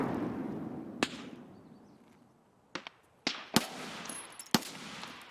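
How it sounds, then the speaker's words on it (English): Scattered suppressing gunshots crack out in Escape From Tarkov, a single sharp report followed by a quiet stretch and then a quick cluster of four or five bursts, some close and loud, others slightly fainter. "So what you're seeing us do is we're providing suppression fire."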